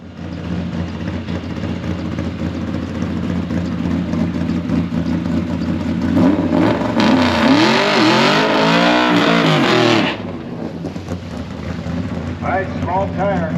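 A Ford-powered 1955 Chevy drag car rumbles at a lumpy idle at the drag strip on a hot day, then revs up in a rising surge before dropping back, with voices talking nearby.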